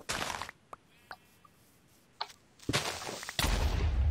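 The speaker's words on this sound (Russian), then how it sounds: "О, меня крипер взорвал" Minecraft creeper explosion, a short burst of sharp noisy cracks followed by a louder, sustained blast and rumble near the end, loud and close.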